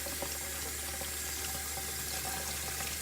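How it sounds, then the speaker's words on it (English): Tomatoes are rinsed under a running kitchen tap, a steady, close rush of water that holds without break throughout, no talking. "rinse them."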